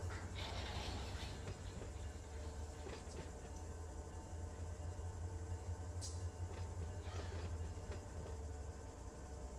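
Locomotive pulling forward in the Run 8 train simulator game gives a steady low rumble with faint clanks and rattles of rolling cars, continuous and moderately loud throughout.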